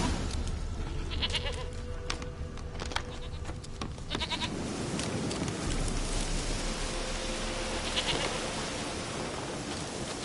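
A goat bleats a few times in The Witcher 3: Wild Hunt, short cries rising over a steady rain-like ambient bed with no talking.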